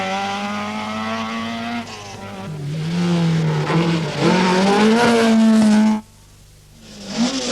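A Rothmans Opel rally car driven by Henri Toivonen on the Circuit of Ireland rally in 1982 roars loudly up through the gears with engine revving and pitch climbing, then cuts off abruptly before picking up again.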